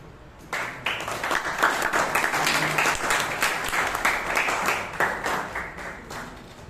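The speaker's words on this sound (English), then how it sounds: "Can we have a huge round of applause for Toastmaster Chiranth A K?" An audience at a Toastmasters meeting breaks into steady applause, many hands clapping together in a sustained burst that swells quickly and then slowly tapers off.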